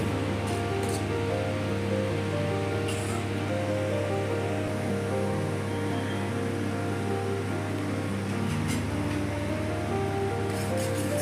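A pot of semiya payasam, vermicelli cooked creamy and thick after roasting in ghee, bubbles at a steady rolling boil, a dense continuous hiss and gurgle heard close with a faint low hum beneath.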